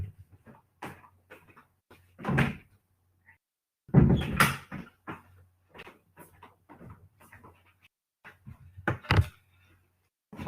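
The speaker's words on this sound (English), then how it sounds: "I'm gonna take 10 seconds to open the door because my cat wants to" Indoor door being opened to let a cat in, giving scattered knocks and clunks with louder bursts of handling and latch noise, fairly close, no talking.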